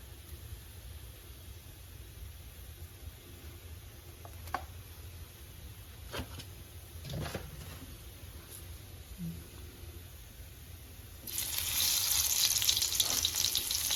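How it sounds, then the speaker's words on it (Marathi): Garlic frying in homemade coconut oil on a gas stove: a low, steady kitchen hum for most of the stretch, then a loud, bright sizzle bursts in near the end and keeps hissing steadily. "जरा फ्राय होईपर्यंत गॅस फुल कर. तोपर्यंत आता आपण फ्राय करून आमच्या घरचं नारळाचं तेल."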